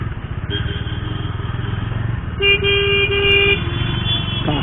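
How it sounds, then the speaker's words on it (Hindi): Heavy road traffic on an Indian highway in Uttar Pradesh heard from a motorcycle, with a constant close engine and road rumble and one long, loud car horn honk partway through. "काफ़ी ट्रैफिक हो रखा है।"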